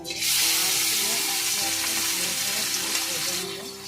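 Morola fish frying in hot oil in a wok makes a loud, dense, steady sizzle that starts abruptly, holds strongly throughout and eases slightly at the end, with no one talking.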